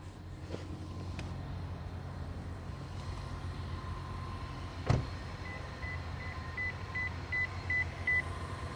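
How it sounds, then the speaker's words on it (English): A 2026 Toyota Crown Platinum AWD starting up at night, with a series of short chime beeps in the second half over a steady low engine and cabin hum, plus a sharp click or thump near the middle. "So now I'm gonna get in, start it up"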